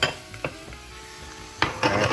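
Spinach tossed into a hot pan for a bacon, egg and cheese dish, heard as a few sharp clanks of pan and utensil over a low sizzle.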